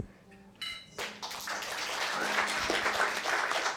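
Applause from a small audience at a presentation of close-up microphone systems for acoustic instruments, beginning after a few taps and building into steady clapping.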